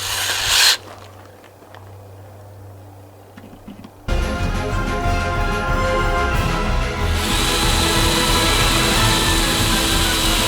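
A step drill bores through the metal shell of a Bertello pizza oven to make a hole for a temperature sensor, giving a loud, sustained grinding whine after a brief quieter lead-in, with no talking.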